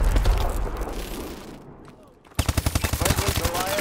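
Rapid automatic rifle fire from a foregrip-equipped gun in Call of Duty: Advanced Warfare Hardpoint, loud repeated shots in a steady burst after a stretch of muffled battle noise and background game sounds.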